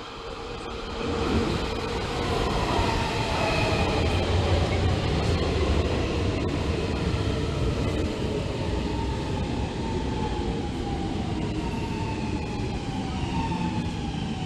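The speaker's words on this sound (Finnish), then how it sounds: "Nyt juna tulee." A Helsinki metro train rolls into Rautatientori station with a loud, steady rumble and rising whine of wheels on rails, growing and holding close by for several seconds.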